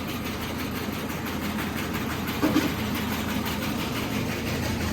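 K-1 winnowing machine cleaning sunflower seeds, a continuous mid-pitched mechanical rumble and rattle, steady and fairly close throughout with a brief louder clunk midway.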